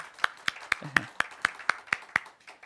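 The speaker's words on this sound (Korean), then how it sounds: "축하의 박수" A church congregation claps in celebration during a Sunday worship service, a steady, evenly spaced run of about ten crisp claps at moderate distance, fairly faint, with a brief murmur of voice partway through.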